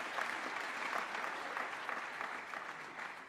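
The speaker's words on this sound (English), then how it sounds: "Can we give her a big round of applause," Audience applause at a graduation ceremony, a steady wash of many hands clapping at moderate volume throughout, with no speech over it.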